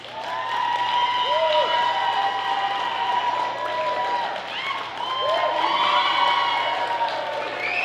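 Nightclub-style studio audience at a late-night comedy and music show bursts into loud, sustained clapping and whooping on cue, with shrill cheers and shouts rising over the applause for several seconds.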